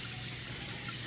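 Cold tap water pours steadily over pasta in a drainer in a kitchen sink, a continuous faint hissing gush alone.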